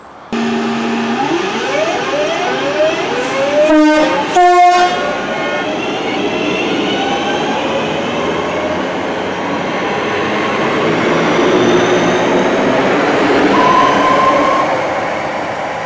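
Class 323 electric trains rumble and whine at Flowery Field Station, with a rising motor tone as one pulls away, two short horn blasts midway, and a steady rolling roar afterward.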